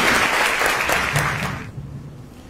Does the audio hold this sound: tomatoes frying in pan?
no